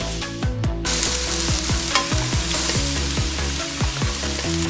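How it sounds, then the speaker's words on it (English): Minced pork frying in a tablespoon of cooking oil in a wok, a close, steady sizzle with repeated scraping strokes of a spatula stirring the meat at an even rhythm, no talking. "heat up 1 tablespoon of cooking oil and add in the minced pork and fry it till it's cooked"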